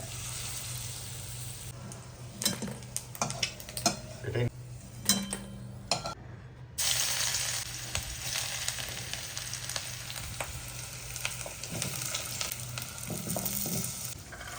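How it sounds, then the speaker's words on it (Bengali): Grated garlic and ginger fry with diced onions in oil left over from frying eggs, a dense continuous sizzle with spatula scrapes and clatters, while someone talks over it. "যেই তেলে ডিমগুলো ভেজেছিলাম সেই তেলে রসুন আদা গ্রেট করে দিয়েছি, আর পেঁয়াজগুলো দিয়ে দিয়েছি"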